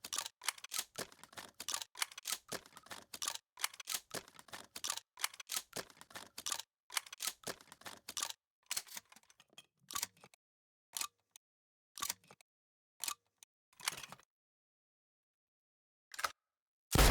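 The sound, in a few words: shotgun reloading in a video game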